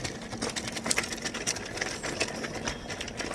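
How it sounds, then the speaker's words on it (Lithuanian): A train passing on a line through countryside near Trakai, heard outdoors as a steady, moderately loud rumble with rhythmic clicking and rattling of wagons throughout, no voices. "Ir čia važiuoja traukiniai."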